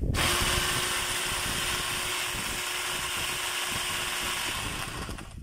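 A DW668 power tool with a worn armature and field coil runs continuously and loudly with a steady motor whine and gritty, crackling noise from sparking brushes, then starts to wind down near the end.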